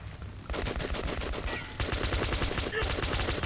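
Rapid automatic gunfire in Metro: Last Light, loud sustained bursts of closely spaced shots with a short gap between two volleys, set against background combat noise.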